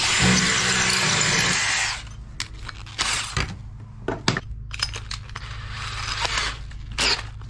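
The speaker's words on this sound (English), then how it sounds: "just put your drill on high speed and it will drill through stucco" A loud power drill on high speed whines steadily for about two seconds boring through stucco, then stops; scattered clicks and short bursts of handling noise follow.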